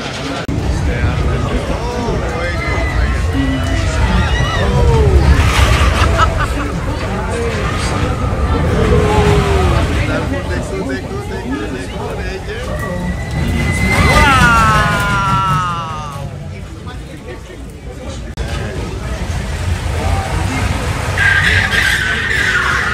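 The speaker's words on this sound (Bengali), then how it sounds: "এই দেখুন রোলারকোস্টার শুরু হয়ে গেছে।" A roller coaster runs at Sunway Lagoon theme park in Malaysia with a continuous loud rumbling roar and rattling that swells and fades over the ride. Crowd voices and squeals mix in throughout.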